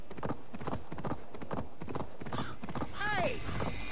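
Horse in Assassin's Creed Valhalla, its hooves clip-clopping in a steady gallop rhythm close by, followed by a whinny near the end, all under continuous talk from a player.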